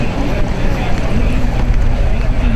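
Fishing boat running flat out on open water, its outboard engine a steady loud roar mixed with wind buffeting the microphone and water rushing past the hull, continuous throughout.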